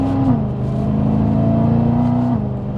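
A supercharged BMW M3 Touring engine holds a loud, sustained, high-pitched rev with a whining drone, dropping slightly in pitch near the start and again at the end, heard close from inside the car.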